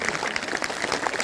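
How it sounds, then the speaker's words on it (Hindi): A crowd at a Bhagwat Katha, a Hindu religious recitation gathering, claps loudly and continuously in a brief burst of dense applause. "निश्चित रूप से आप तालियों के हकदार हैं। जोरदार तालियां,"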